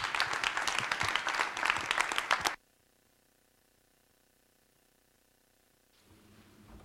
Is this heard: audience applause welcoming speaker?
yes